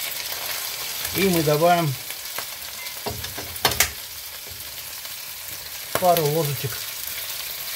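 Meat frying in a pan, a steady close sizzle running throughout, with a person speaking briefly over it twice and a few soft utensil knocks in between.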